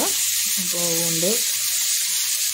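Chopped onions sautéing in a hot pan for vegetable biryani, a steady close sizzle running throughout, with a person talking briefly over it.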